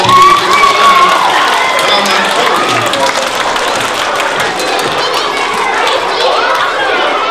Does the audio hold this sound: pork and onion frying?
no